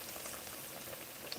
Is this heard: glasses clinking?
no